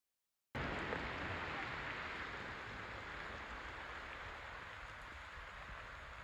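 Heavy rain pours during an outdoor search and rescue training exercise, starting abruptly as a steady, dense hiss that stays loud and constant throughout.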